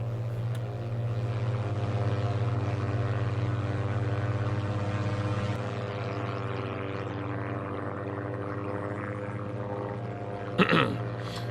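A CallAir A-2 propeller airplane drones steadily in flight over mountains, a continuous engine hum with a strong low tone, heard alone and fairly faint, with a brief louder disturbance near the end.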